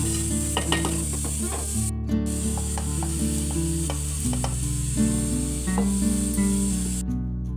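Sago pearls frying in ghee for payasam, with a continuous close sizzle and crackle and scattered scraping and stirring sounds throughout.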